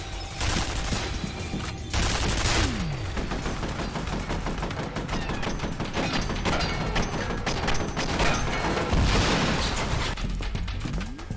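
An automated turret in F.E.A.R. Perseus Mandate fires a sustained, rapid machine-gun stream. The heavy volley runs loud and nearly unbroken, with short pauses and booming impacts mixed in.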